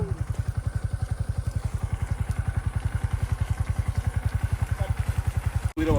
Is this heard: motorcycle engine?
yes